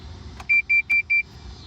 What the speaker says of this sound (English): And you hear those beeps there.